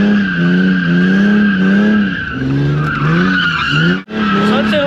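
A drift car skids with squealing tires at the 2023 Kolstrup tuning car meet, a loud, continuous wail that slides up and down in pitch for about five seconds, with one brief break near the end.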